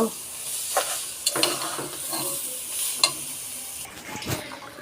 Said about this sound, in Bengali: গুঁড়া দুধ দিয়ে ভালো করে এটাকে নেড়ে চেড়ে নিব